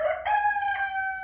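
A seven-month-old American Bresse cockerel gives one full crow, loud and close. The call is clear and harmonic, with a short rise into a long held note.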